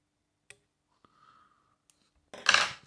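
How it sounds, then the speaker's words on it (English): Small scissors trimming excess thread on a size 10 fly-tying hook for a salmon shrimp fly, a few faint isolated clicks in quiet, then one sharp close snip at the end. "I'm going to trim off the excess"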